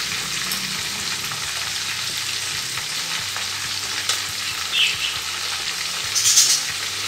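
Jama Masjid style chicken frying in oil on a high flame: a constant, dense sizzle up close, with a couple of brighter pops and crackles near the end and no voices.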